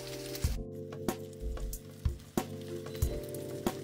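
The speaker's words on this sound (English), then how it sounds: "Can y'all hear them sizzling?" Ribs sizzling in a hot pan with a steady crackle, punctuated by several sharp clunks and scrapes of handling.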